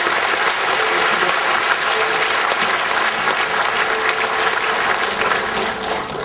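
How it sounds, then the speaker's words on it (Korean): A church congregation bursts into sustained applause, a dense, loud clapping that fills the room evenly throughout with no pause. "감사하신 주님 앞에 우리 영광의 박수 올려드리겠습니다"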